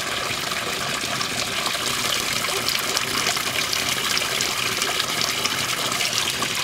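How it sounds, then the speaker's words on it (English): Steady trickling and splashing water from a small koi pond runs continuously at a constant level nearby, with no talking. "in case you guys are wondering what the hell is that noise, a little koi pond going on"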